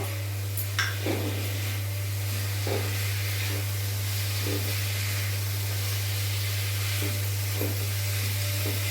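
Potatoes and tomatoes fry on a medium flame for a prawn and pointed gourd curry, giving a constant soft sizzle with occasional stirring clicks, over a steady low electrical hum.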